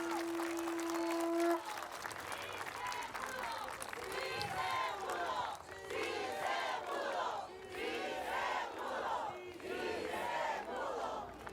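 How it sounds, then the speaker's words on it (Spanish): A crowd at a political event for Morena party members applauds and cheers loudly, sustained clapping with shouts in waves after a short tone, filling a large hall. "Les pido un aplauso muy fuerte para nuestros compañeros y compañeras."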